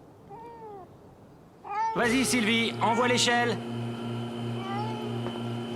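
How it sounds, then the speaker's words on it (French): Cartoon cat meowing up in a tree, several plaintive meows heard over a steady background tone and music, with speech from characters overlapping. "Et maintenant, on va aller chercher ton chat dans cet arbre."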